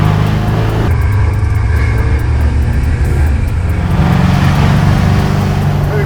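A twin turbo Duramax diesel in a 1970 Chevelle drones with a deep, loud, continuous rumble, pitch shifting slightly as the load changes, close up and without talk.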